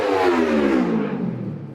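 A motorbike revs and passes on a Melbourne street, a loud engine whine that rises and then drops in pitch as it goes by, heard alone.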